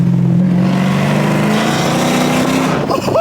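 A manual Dodge Hellcat with catless mid-pipes revs loudly up close, its exhaust climbing in a harsh, raspy roar before it drops off near the end.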